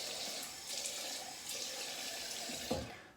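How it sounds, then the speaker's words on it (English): Tap water running steadily into a sink as alum is rinsed off freshly shaved skin, a soft continuous splashing flow with a brief thump near the end, close and quiet. "just rinse it off"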